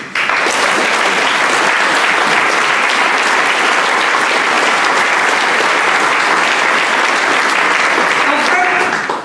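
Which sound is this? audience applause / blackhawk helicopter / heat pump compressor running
audience applause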